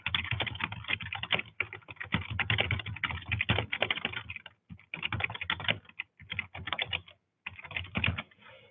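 Fast, bursty typing on a computer keyboard fills the quiet, with short pauses between bursts of keystrokes while a project description is entered.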